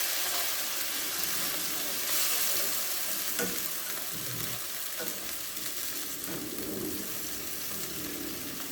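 Salted white peda fish stir-frying in a pan with a splash of water, a steady loud sizzle and hiss with occasional scraping stir strokes throughout.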